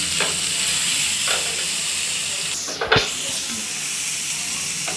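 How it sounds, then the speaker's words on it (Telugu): Onion, green chili, ginger-garlic paste and turmeric sizzle steadily in a hot pan, a continuous frying hiss with a brief louder stir or clatter midway. "ఇప్పుడు ఇలా వేగింది కదండి"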